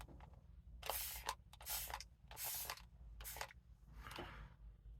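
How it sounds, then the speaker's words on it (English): Several short, sharp hissing bursts from a spray bottle spraying water onto knives, spaced irregularly about a second apart, close and fairly quiet with no voices. "test those by spraying some water on them"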